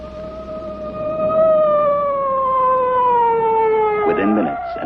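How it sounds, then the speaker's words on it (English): An ambulance siren in the 1963 Astro Boy animated cartoon sounds as a loud, single sustained tonal wail that slowly falls in pitch, with a voice breaking in briefly near the end. "Within minutes, an ambulance was on the scene."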